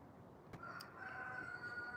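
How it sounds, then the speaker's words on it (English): A rooster crows in the afternoon, one drawn-out call at a distance, faint over a low outdoor background. "that dude just cock-a-doodle-dooed."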